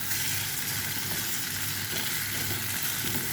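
Ginger, garlic and cumin paste fries in a pan with a constant, loud, hissing sizzle that holds without a break, and faint stirring scrapes sit underneath.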